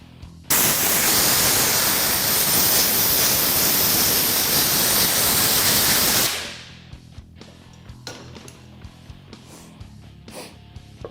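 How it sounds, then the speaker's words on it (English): Compressed air from a hose blasts steadily through the air filter of a Kawasaki Teryx 4 UTV, a loud continuous hiss lasting about six seconds before cutting off, leaving faint handling clicks. "We'll just use an air hose to blow it from the inside out."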